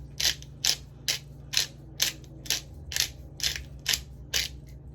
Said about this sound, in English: I do freshly ground black pepper.